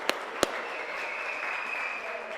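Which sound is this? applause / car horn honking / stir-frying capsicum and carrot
applause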